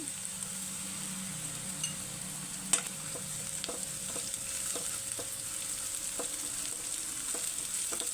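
Onions and ginger-garlic paste sizzle in a frying pan for a Telugu boondi masala curry, a steady soft hiss broken by sharp spatula scrapes and taps against the pan at irregular intervals.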